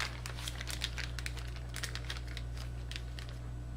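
Plastic bags holding smoked pork sandwich meat crinkle and rustle in quick bursts as they are pressed, sealed and folded over, close up over a steady low hum.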